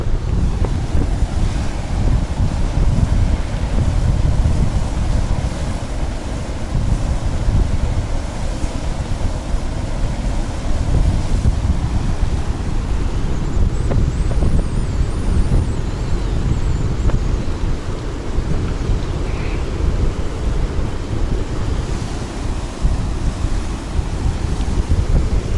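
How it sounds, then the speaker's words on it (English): Water rushing steadily over a weir on a canal in winter, with surface ice held back by it; a loud, continuous broadband roar close by, with no talking. "Here's the weir."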